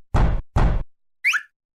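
Two heavy knocks land on a door in quick succession, loud and close, followed by a brief high squeaky cartoon-style sound effect, in a Halloween-themed children's alphabet setting.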